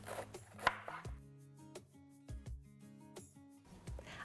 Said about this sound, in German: schneide ich den Wirsing in Streifen.